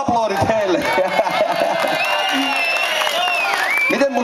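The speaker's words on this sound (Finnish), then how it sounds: "Aplodit heille." A studio audience claps and cheers for a couple on a Finnish TV show, a steady wash of applause with whoops, while a voice talks over it.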